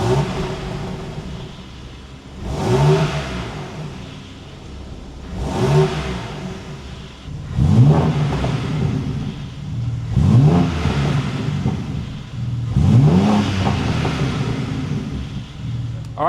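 A BMW M3 G81 Touring on its stock exhaust is revved in a workshop: five loud, close blips spaced a few seconds apart, each rising sharply and falling back to a low idle.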